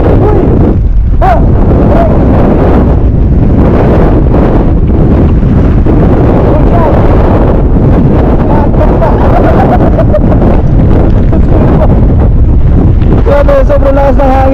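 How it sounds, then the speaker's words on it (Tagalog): Very strong typhoon wind on a hilltop blasting across the microphone as loud, constant buffeting roar, with brief voices and a short tonal whine near the end. "Sobrang lakas ng hangin."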